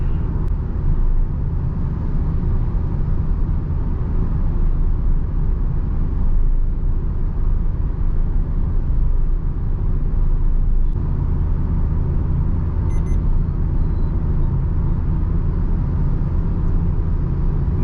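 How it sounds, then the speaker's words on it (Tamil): Interior of a 2025 Maruti Ertiga CNG seven-seater under normal driving, filled with a loud, steady low engine and road drone that barely changes throughout, with no voices. "வண்டியை வந்து நான் நார்மலாக ஓட்டிகிட்டு இருக்கிறேன்."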